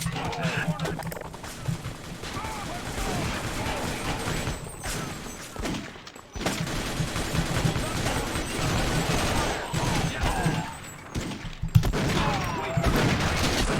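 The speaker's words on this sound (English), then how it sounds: "I hope the engineers can stop shooting me now." Sustained video game gunfire from enemy engineers fills the scene, with dense rapid shots and thuds rattling almost continuously, and a player's voice speaks over the barrage.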